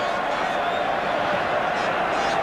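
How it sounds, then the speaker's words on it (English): A large Auckland rugby crowd at a Super 12 final sings and roars as a steady, dense wash of massed voices, with no breaks. "to hear an Auckland crowd singing to the tune of this game"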